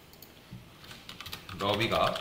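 Typing on a computer keyboard while writing HTML and CSS code: quick, light, close key clicks, with a voice talking over them toward the end.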